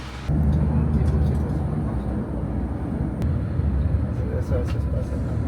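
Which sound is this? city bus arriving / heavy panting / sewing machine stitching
city bus arriving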